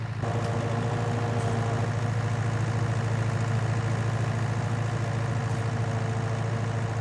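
Kubota tractor engine idling steadily before bush hogging on an overgrown property, a continuous low mechanical drone at constant loudness with no talk.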